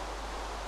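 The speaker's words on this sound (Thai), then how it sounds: "เกลียดฝนน่ะไม่เอาฝนเด้" Steady rain in Minecraft during a survival-style playthrough, a constant broadband hiss with no distinct drops, even and moderately loud for the whole short moment with no talking.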